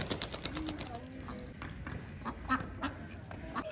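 Ducks quacking and splashing as they bathe in a backyard fish fountain, with short bursts of calls over a steady wash of water and light background talk.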